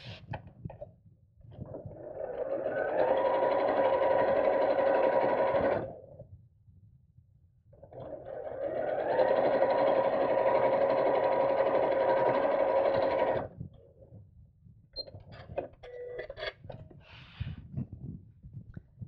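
A sewing machine joins the side and front pieces of a fabric purse organiser bag in two long, steady runs of rapid stitching, close and clear, separated by brief pauses and handling noises.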